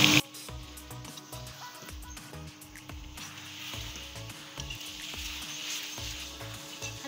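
Pieces of meat with yogurt fry in ghee in a pot for aloo gosht, giving a soft, continuous sizzle and crackle. It is fairly faint and steady, with a brief louder clatter at the start.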